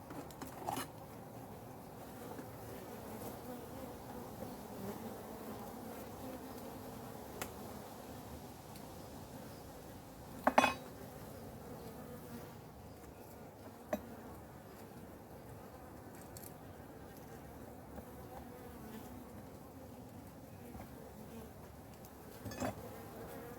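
Honey bees hum around an opened hive during a spring honey harvest, a faint steady buzzing throughout with occasional close clicks and taps from hive work, no voices.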